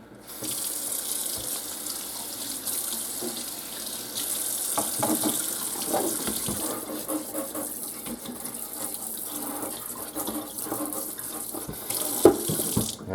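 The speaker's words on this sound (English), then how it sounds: "let's go bring it over for a quick rinse." Kitchen tap running steadily while a freshly caught smallmouth bass is rinsed under it, a continuous close water hiss with splashing changes as the fish moves through the stream.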